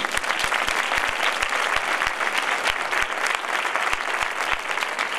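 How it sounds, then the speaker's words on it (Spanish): A crowd at a fair coronation in Facinas in 2014 gives loud, dense applause, sustained and even throughout with no voices on top. "desde aquí le vamos a mandar un fuerte aplauso"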